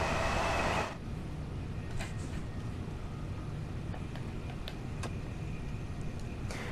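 Steady rumble of a Class 387 electric train running on a London commuter line in Train Sim World 2, a broad continuous roar with occasional faint clicks and squeaks, louder at the start then settling.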